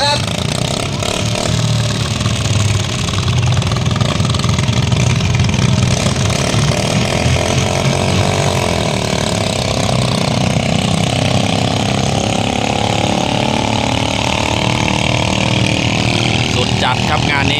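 Iron-wheel farm tractor engines idle at the start line of a tractor race at a temple fairground in Nonthaburi, Thailand, a steady loud rumbling chug running throughout with an announcer talking over it.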